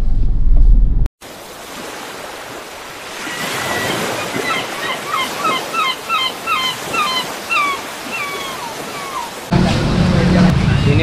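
Modest ocean waves wash onto the east beach at Pangandaran on a breezy morning, with steady surf and wind noise and a person talking at the start and the end.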